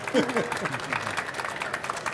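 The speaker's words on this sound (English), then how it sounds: "please could have a big round of applause for the panel, especially Gemma" An audience at a driver-distraction safety theatre event applauds the panel, a steady wash of clapping from a crowd that continues under a voice speaking on stage.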